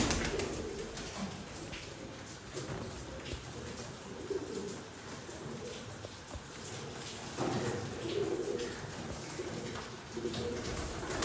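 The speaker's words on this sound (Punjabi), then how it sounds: "ਭਾਈ ਵੀ ਆਈ ਪੀ ਡੈਡੀ ਗੋਲਡਨ ਕਬੂਤਰ" A pair of golden pigeons, a VIP breeding pair, coos in soft repeated throaty phrases amid other birds, fairly quiet and continuous with occasional louder bursts and a faint clopping.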